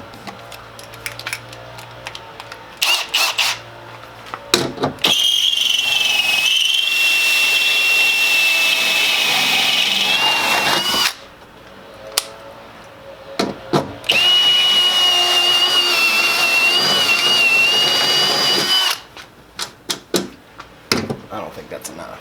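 A power drill whines loudly in two long bursts during a Mountain Hatch install, separated by clunks, taps and handling noises, with people talking nearby between runs.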